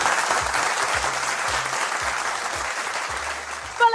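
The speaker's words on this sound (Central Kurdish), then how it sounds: "بایەک چەپڵەی بەهێز لێبین بۆ سپۆنسەرەکەمان IQ" A studio audience on a quiz game show claps steadily and loudly for the sponsor, a dense burst of applause lasting several seconds.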